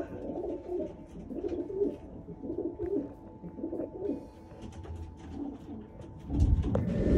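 Racing pigeons in a Fremont club member's loft coo softly and repeatedly, a low, steady burble that carries on throughout, with a louder thump or flutter close by near the end.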